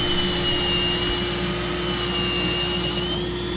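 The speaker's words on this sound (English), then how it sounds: "I used a buffing wheel to get rid of all of the minor scratches in the resin" A buffing wheel charged with white diamond compound polishes the scratches out of a resin bowl, giving a continuous, even motor whine with a steady tonal hum, close and unbroken.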